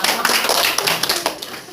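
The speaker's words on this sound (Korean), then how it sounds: "박수 한번 하시죠." A class claps for a student in a burst of dense, loud handclaps lasting under two seconds.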